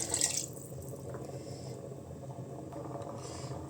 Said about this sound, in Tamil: அதுலேயே தண்ணி கலந்து கலந்துட்டு நம்ம ஊற்றிடலாம் பாருங்க ஊற்றுறேன்